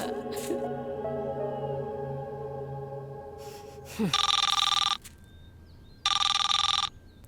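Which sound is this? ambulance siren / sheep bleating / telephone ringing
telephone ringing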